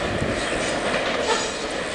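A Norfolk Southern NS 213 intermodal freight train rolls past by Archdale, a loud, close, continuous rumble of wheels on rails with faint squealing.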